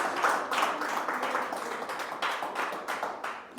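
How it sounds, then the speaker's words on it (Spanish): A church congregation claps together during a service, a dense, even burst of many hands that stays lively for a few seconds, then thins slightly toward the end. "dale un aplauso a Jesús"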